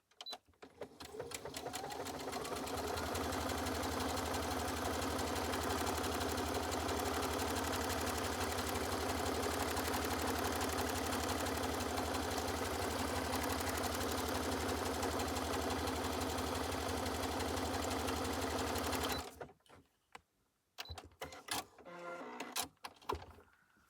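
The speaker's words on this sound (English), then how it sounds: "Let's see how it will sew" A sewing machine stitches steadily around a handmade paper envelope held with double-sided tape, running continuously for about 19 seconds before stopping, followed by a few faint handling clicks.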